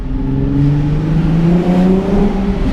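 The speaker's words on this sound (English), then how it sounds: "now we're gonna do the obligatory parking garage exhaust note test." A car engine revs up and holds a rising, droning exhaust note, echoing in an underground parking garage, with no talking.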